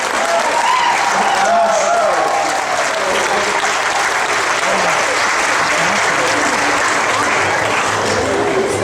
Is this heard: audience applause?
yes